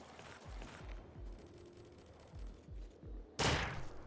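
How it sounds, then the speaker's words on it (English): Dual Uzis firing in short bursts in Foreign Legion: Multi-Massacre, a string of quick, fairly quiet shots ending in a louder, harsher burst near the close. "here's the dual Uzis. They work exactly like the singular one, they just have more bullets."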